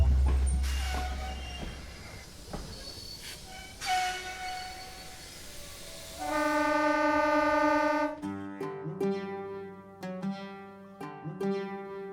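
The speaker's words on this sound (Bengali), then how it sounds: "এই হলো সেই স্টেশন যেখানে ট্রেন মাত্র 3 মিনিট দাঁড়ায়।" Railway station sounds in Rajasthan, India: rumbling, rolling railcars with clanking and a sustained metallic squeal of train wheels, fairly loud and close, no talking.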